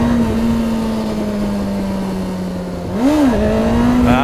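A motorcycle engine pulling hard through the gears, its steady drone sagging slightly in pitch before a quick shift and a rising rev. The note stays loud and close throughout, with no talking.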